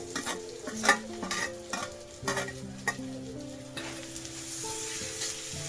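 Browned onion, kokum and tomatoes sizzle in a pan for a masala dish, with a steady frying hiss punctuated by repeated stirring scrapes and clinks of a utensil against the pan; no one speaks.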